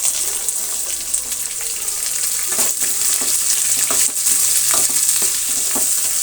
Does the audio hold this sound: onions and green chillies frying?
yes